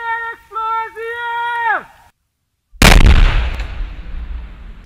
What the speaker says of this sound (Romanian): Atenție, explozie!